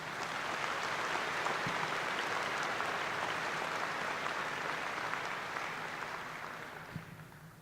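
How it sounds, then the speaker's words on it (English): Sustained applause from a large crowd at a university awards ceremony, steady and even throughout, fading slightly toward the end. "Please join me in one more round of applause for our Outstanding Faculty Award recipients."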